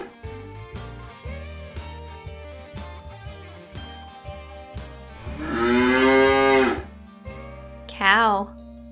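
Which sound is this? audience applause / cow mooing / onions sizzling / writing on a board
cow mooing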